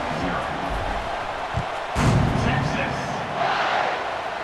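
A stadium crowd roars at a college football video game playoff simulation as the kickoff nears, a steady broad swell of cheering that rises around the middle and again toward the end, with commentary voices mixed underneath.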